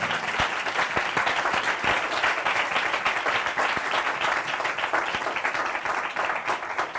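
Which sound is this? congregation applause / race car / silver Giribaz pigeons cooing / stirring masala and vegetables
congregation applause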